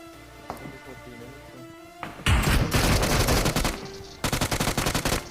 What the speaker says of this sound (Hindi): बहुत तगड़ी वाली गोली चल रही है